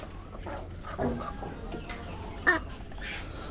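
Chickens in a backyard chicken coop, with scattered soft clucks and a brief louder squawk over a quiet, slightly noisy background.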